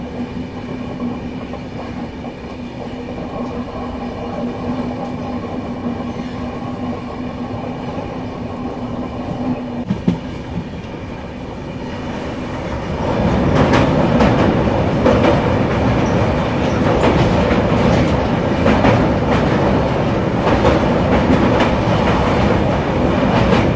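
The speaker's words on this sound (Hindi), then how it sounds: "कर्व लेना स्टार्ट हो गया है अपना इल्लुवाई WAP7 लोकोमोटिव" An Indian passenger train hauled by a WAP7 electric locomotive rumbles steadily as it rounds a curve, heard from inside a 2nd AC coach at the rear, with the wheel noise and clatter swelling louder partway through.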